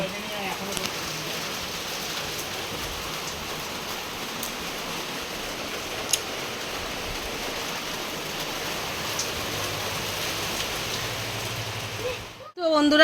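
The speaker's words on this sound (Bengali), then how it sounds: "বাইরে তো প্রচুর পরিমাণে বৃষ্টি, এত বৃষ্টি হচ্ছে বাইরে বলার মতো না" Heavy rain pours down outside, a steady, even hiss of falling water heard from indoors, ending with a brief louder knock.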